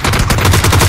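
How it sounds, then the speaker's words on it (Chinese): Rapid automatic gunfire from the video game PUBG rattles in a dense, loud burst of closely spaced shots lasting under a second. "我要开枪喽。"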